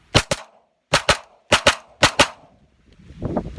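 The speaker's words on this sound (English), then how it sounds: "We're taking a look at the CZ97B chambered in 45 ACP. This thing is insane." A CZ 97B pistol chambered in .45 ACP fires four close pairs of loud, sharp shots with short pauses between them, leaving a brief echo after each report, while faint rustling noise follows at the end.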